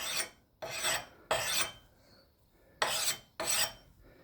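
An axe blade is sharpened with five distinct rasping file strokes, swiped back and forth in an even rhythm with short pauses between, close and clear.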